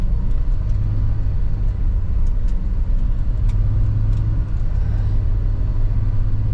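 An off-road vehicle with a 3:1 transfer case climbs toward 3,000 RPM, its engine a steady, close, loud low rumble that holds firm throughout, with no talk over it.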